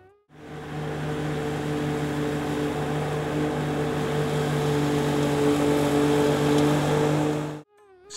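A petrol-engine lawn mower runs steadily and loudly up close, with a continuous droning hum holding for about seven seconds before cutting off abruptly.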